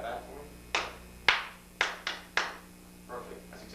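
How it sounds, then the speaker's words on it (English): One person claps back a rhythm alone: a run of sharp hand claps in an uneven pattern over a few seconds, close and fairly crisp against a quiet room, with faint extra claps at the end. "Gary, can you clap that back for me?"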